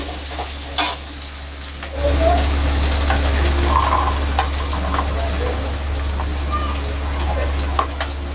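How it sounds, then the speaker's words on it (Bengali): Chopped onions fry in hot oil, giving off a continuous crackling sizzle with occasional stirring clatter. The sizzle swells after a moment and stays close and steady throughout. "একটু লাল করে ভেজে নেব।"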